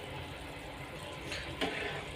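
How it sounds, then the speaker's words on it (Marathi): Hot water splashes into a pan of dry curry made with sun-dried lentil dumplings (sandge) cooking over a medium flame. A steady watery rush and bubbling fill the whole clip, with a brief louder splash near the end. "गरम पाणी टाकल्यामुळे भाजी अशी चिकट होत नाही सुटसुटीत होते"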